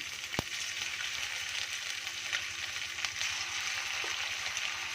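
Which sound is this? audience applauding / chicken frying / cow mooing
chicken frying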